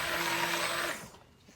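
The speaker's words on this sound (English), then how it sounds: "it gets there pretty quick with a stick blender" A stick blender whirs through oatmeal, milk and honey soap batter, a close steady motor whine that cuts off abruptly just under a second in, leaving quiet.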